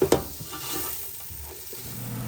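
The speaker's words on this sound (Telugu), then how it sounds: "సో ఇప్పుడు ఈ ఆనియన్స్ బాగా కొద్దిగా ఆరెంజిష్ కలర్లోగా ఫ్రై అయిపోవాలన్నమాట." Onions fry in a pan for chicken pulav, starting with a sharp clatter of the utensil against the pan and then settling into a steady, close sizzle with light stirring.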